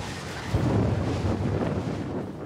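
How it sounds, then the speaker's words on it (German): Strong storm winds from Texas tornadoes tear through Dallas at over 300 km/h, heard as a steady, loud, broadband roar that swells slightly partway through, with no voices. "Und die Winde peitschen mit über 300 Kilometern pro Stunde durch Dallas."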